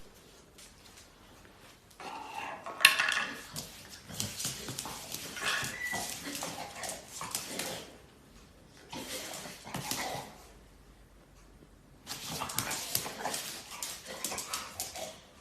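A dog celebrates a treat with a little dance, giving excited whimpers and yelps in several bursts separated by short quiet gaps, close and moderately loud.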